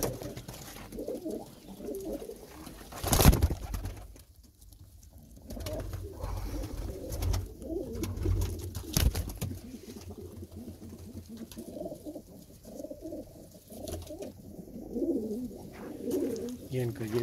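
Pigeons coo repeatedly inside a breeding loft in Punjab, soft throaty rolls overlapping at close range, with a louder knock or thump early on and faint speech mixed in the background.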